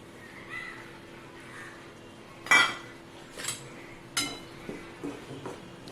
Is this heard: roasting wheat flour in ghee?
yes